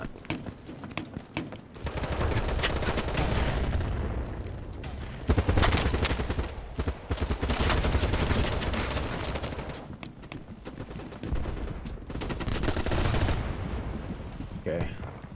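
Gunfire from a BattleBit Remastered match, with dense bursts of rapid automatic shots that come and go over the whole stretch, loud and close, and brief pauses between the volleys.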